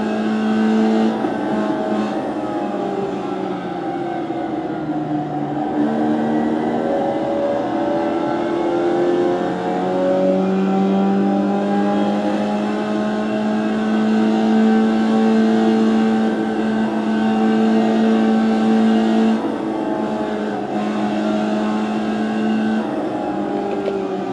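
Race car engine in iRacing held in second gear, a steady loud drone whose pitch climbs and falls with revving, continuous throughout with no talk.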